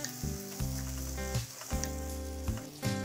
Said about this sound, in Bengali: এখন সবকিছু ভেজে নিচ্ছি পেঁয়াজ মরিচটাকে